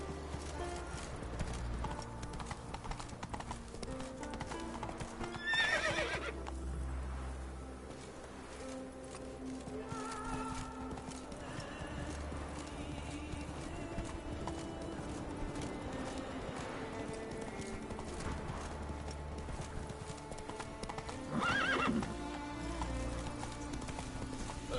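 Hooves clip-clop steadily as a horse gallops in the Witcher 3 video game, with a couple of brief neighs rising above the rhythm; a voice speaks briefly over the hoofbeats.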